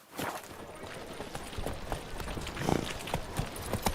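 Roach, Geralt's horse in The Witcher 3, trots along with a steady rhythmic clip-clop of hooves, fairly close and clear, with faint game sounds around it.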